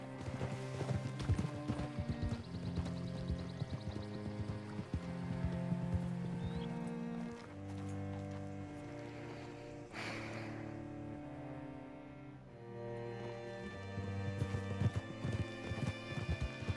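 Horse hooves clip-clop steadily in Red Dead Redemption 2, a rhythmic trot sounding under a dense orchestral music score for the whole stretch.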